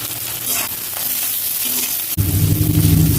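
Onions, curry leaves and tomatoes sauté in hot oil for a chicken pepper fry, giving a steady close sizzle that suddenly swells louder and fuller near the end as more food hits the pan.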